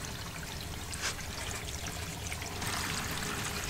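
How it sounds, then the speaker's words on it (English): Steady rushing of water draining and pouring outside from a house water filter being repressurized, continuous and fairly close, swelling slightly louder toward the end. "You can hear it draining outside."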